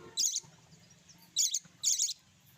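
A tame budgerigar gives three short, sharp bursts of high chirping, close and clear against a quiet background.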